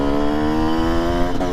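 A Yamaha YZ 125 supermoto two-stroke engine revs high and holds a steady, loud, close buzzing whine, with a slight waver near the end of the short burst.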